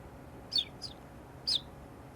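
A person whistles an imitation of a bird call: three short, high chirps, the first and last stronger, spaced about a second apart over a quiet background.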